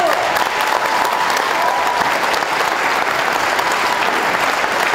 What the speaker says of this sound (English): Let's hear it for Jason.